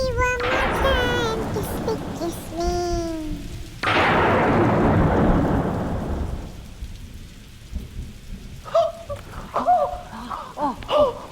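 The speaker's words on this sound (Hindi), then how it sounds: "जब तक ये तूफान थम नहीं जाता" A thunderstorm with heavy rain: loud thunder cracks and rumbles over a constant dense roar of rainfall, the downpour easing toward the end where a voice is heard.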